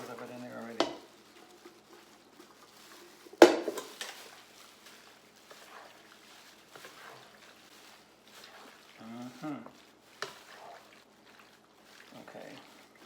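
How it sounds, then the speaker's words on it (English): Noodles and cheese cubes are stirred and folded into an Italian sausage casserole, with a few sharp scraping thuds and soft wet squelches from the spoon spaced out across quiet stretches. "I'm just going to start folding these guys in here as I stir it"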